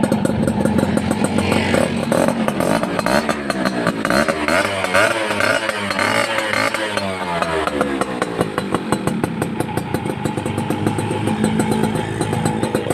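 A 1990s Yamaha Mate 111 motorcycle engine runs steadily up close, a dense, even clattering drone with a slight fan whir underneath, holding at a constant level throughout.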